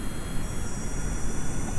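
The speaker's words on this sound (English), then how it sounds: "I'm gonna hit the Z key really quick, and that engine sound gets higher and higher pitched" Jet engine in Kerbal Space Program spooling up with a steady roaring hiss, a broad constant wash of airflow noise throughout with no voices.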